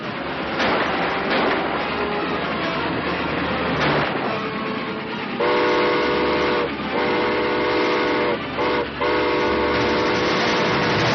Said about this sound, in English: I can cut in front of that train and lose him